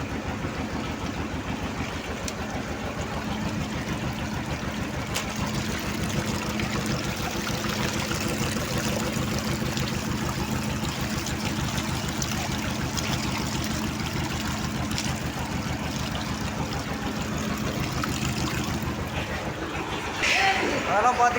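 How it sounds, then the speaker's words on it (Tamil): Spring water flows steadily out of the ground beside a stream, a constant gushing trickle heard close up for the whole stretch while someone talks over it in Tamil. "ஊத்துலேயே பெரிய ஊத்து இதானுங்க பாருங்க, எவ்வளோ நல்லா தண்ணி வருது"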